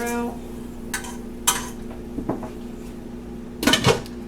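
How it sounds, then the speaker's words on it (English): Rice is stirred in a pan with a utensil in a home kitchen, giving a few sharp scraping clinks spaced apart, with a louder cluster of knocks near the end over a quiet low hum. "I'm going to throw my rice in here. Give this a little stir around."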